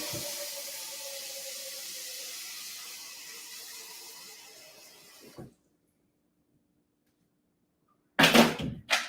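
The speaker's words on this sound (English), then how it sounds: "So I pour some water in there and then the chocolate on top so it can start melting." Water is poured into a pot for melting chocolate, a steady rushing pour lasting about five seconds that tapers off into silence, then a short burst of clattering handling noise near the end.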